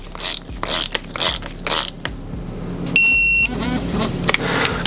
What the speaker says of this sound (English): we can torque this smaller M6 bolt down